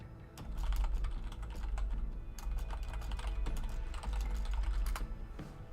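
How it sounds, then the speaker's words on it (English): Loud, rapid typing on a computer keyboard, a close run of crisp key clicks in irregular bursts, with no talking, over a steady low background hum. "I apologize if the typing is very loud."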